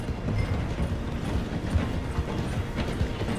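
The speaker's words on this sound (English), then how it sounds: "The train is slowing down to go through the station." A steam train from Red Dead Redemption 2 rolls slowing through a station, a steady low rumble with rhythmic clanking of wheels on rail joints, continuous and fairly close with no voices.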